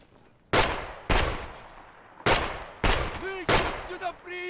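Five loud, sharp shotgun blasts in Escape From Tarkov, firing buckshot or slugs, spaced unevenly over a few seconds, each with a short echoing tail and a brief metallic ring after the later shots.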